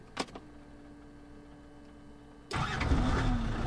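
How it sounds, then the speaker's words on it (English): A car engine, stopped during a drive across Africa, is cranked with a click and a faint whine before catching at once into a loud, rough idle that holds steady close by. "I'm going to turn the engine back on"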